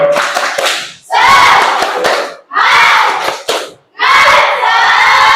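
Schoolchildren in a classroom perform a spirited clapping chant, loud shouted phrases in three or four bursts separated by brief pauses, with claps mixed into the group voices.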